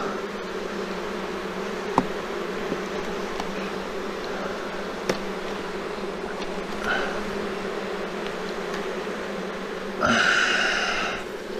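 Honey bees buzz at an open hive during a September apiary inspection, with a continuous droning hum throughout, a few faint clicks and knocks from handling frames, and a louder burst of buzzing near the end.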